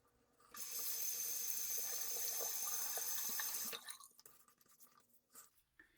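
Water runs steadily from a tap onto shaving soap for about three seconds with a bright hiss, then cuts off, leaving faint drips and small handling sounds.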